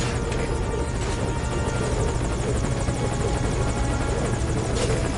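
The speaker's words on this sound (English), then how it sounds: "This is Morpho, on station at LZ. Making forced landing." A helicopter makes a forced landing in Metal Gear Solid Ground Zeroes, its rotor thumping and engine whining in a loud, constant, close roar that fills the whole stretch without any speech.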